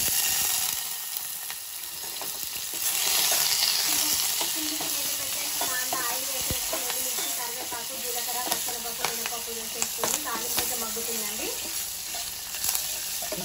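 A Telugu dal tempering fries hard in a pan, a dense steady sizzle with spatter that swells mid-way, and faint stirring scrapes tapping through toward the end; no one speaks.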